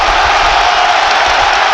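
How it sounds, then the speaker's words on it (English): Loud, steady roar of a large football stadium crowd at the Amex during Brighton & Hove Albion versus Newcastle United, a continuous dense wash of noise with no breaks. "Amex crowd want a second goal"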